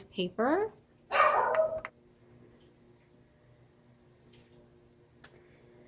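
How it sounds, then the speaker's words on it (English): A small Boston Terrier and Chihuahua mix dog barks in two quick, sharp bursts near the start, close by in a quiet indoor room, with a brief spoken word and then near silence. "sorry for my dog barking back there"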